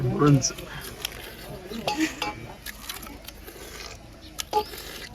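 Dishes being washed by hand, close clinks and clatters of plates, pots and cutlery with splashy scraping, scattered irregular knocks over low background noise, with brief voices in the background.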